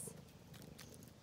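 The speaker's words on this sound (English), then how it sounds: "And you're purring. I can hear you." Soft, low continuous purring from a kitten on the Appalachian Trail near Harpers Ferry, close and steady, with faint background hiss.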